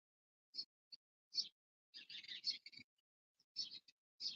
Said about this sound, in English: Every time I speak, the birds give out to me more.